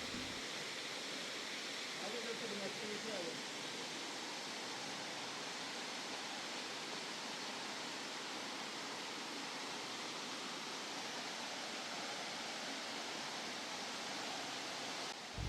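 A waterfall at Springbrook National Park in Australia gives a steady, faint, broadband rush of falling water that continues unchanged for the whole stretch.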